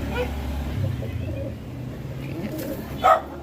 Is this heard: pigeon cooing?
yes